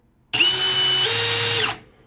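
Milwaukee FPD3 cordless percussion drill runs in a single loud burst of about one and a half seconds, a high whining motor starting abruptly, rising slightly mid-run, then spinning down, with no voices.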